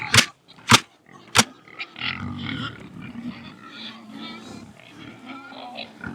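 Pastured pigs grunt and oink close by in a few loud, sharp bursts, then a steady jumble of lower grunting and snuffling continues throughout.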